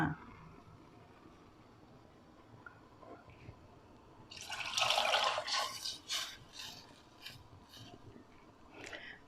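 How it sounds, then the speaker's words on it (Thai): Milk poured into a pot of dissolved sugar for a Thai cantaloupe fresh-milk drink gives a soft, steady splashing stream for a couple of seconds amid quiet kitchen background. "ทีนี้เราเอานมใส่เลยค่ะ"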